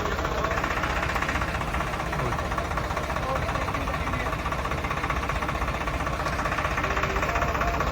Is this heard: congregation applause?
no